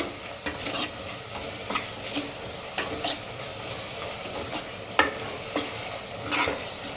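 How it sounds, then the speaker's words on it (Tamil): Onion and tomato sauté with sambar powder for radish sambar, a steady sizzle broken by regular scraping strokes of a spoon or spatula stirring the pan up close. "நல்லா தக்காளி நல்லா வெங்காயம்லாம் வதக்கிச்சு"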